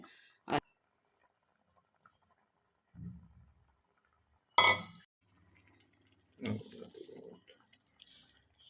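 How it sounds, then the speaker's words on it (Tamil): Eggs cracked one at a time into a simmering Tamil egg curry (udacha muttai kulambu): a few separate sharp cracks and soft wet plops spread out with quiet gaps between them, close by, with no talking. "ஒவ்வொரு முட்டையாக உடச்சி ஊற்றினா தான் தெரியுங்க"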